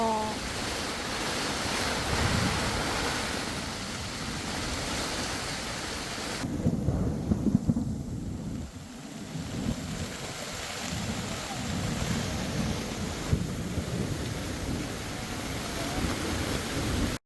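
A thunderstorm batters a campsite with a constant roar of wind and heavy rain, and deep rumbles of thunder roll underneath, loud and close throughout.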